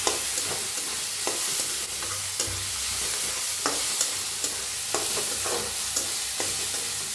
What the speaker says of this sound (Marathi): थोडंसं टाकूया हिंग चांगलं असं भाजून घ्यायचे तेलाचं